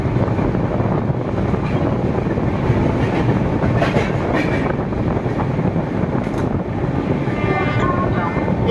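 The Kumbh Express runs through Bardhaman Junction without stopping, a loud continuous rumble of wheels and carriages heard from on board, with wind buffeting the microphone and voices from people nearby.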